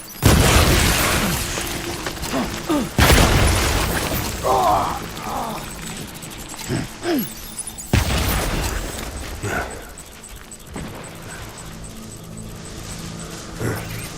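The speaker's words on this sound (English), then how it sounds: "Let's try this. I haven't used these grenades yet." Grenade blasts in Death Stranding, three heavy booming explosions a few seconds apart, each decaying with rumble and debris, with a voice talking briefly in between.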